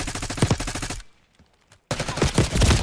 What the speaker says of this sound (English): this little AR shoot pretty good, though